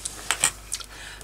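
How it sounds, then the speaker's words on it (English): Metal binder rings of a Filofax planner click in a few short, crisp snaps, close and fairly quiet, with brief pauses between them and no talking. "So I'm sorry about the noise for the rings making that noise."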